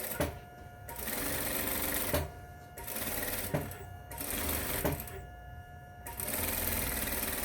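A sewing machine stitches the seam of a fabric bag in steady, close runs broken by several brief pauses, with a 1 cm seam allowance along the edge.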